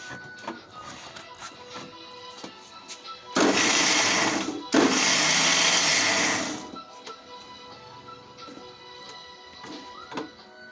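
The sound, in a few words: mixer grinder running, grinding for pav bhaji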